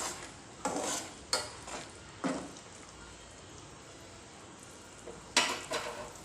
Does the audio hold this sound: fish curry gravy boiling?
yes